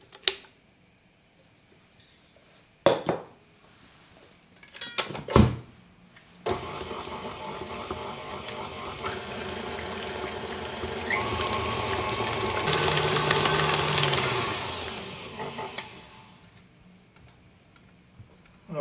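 Electric mixer beating almond cream with three whole eggs: after a few brief knocks, a loud steady motor whir runs for about ten seconds, rises in pitch as it speeds up, then cuts off.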